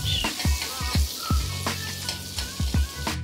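Butter melting in a hot pan, a soft, close crackling sizzle broken by irregular pops and spatters, fairly quiet and without speech.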